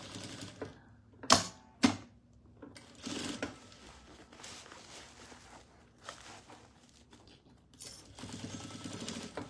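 A domestic sewing machine stitching a fabric Easter pot-holder glove, its quick mechanical chatter running in short bursts with pauses, a few sharper clicks and handling noises between, fairly close.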